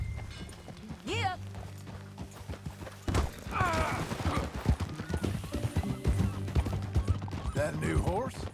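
A horse in the video game Red Dead Redemption 2 gives steady clip-clop hoofbeats with several whinnies and neighs over them, while characters talk throughout.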